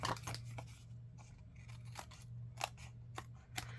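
Scissors trimming a paper card at close range, a series of crisp snipping cuts in an irregular rhythm over a low steady hum, with no voices.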